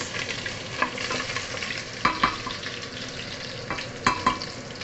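Onions and garlic fry in a pan with a steady sizzle, as repeated sharp scrapes and clinks of a spatula stir them at close range.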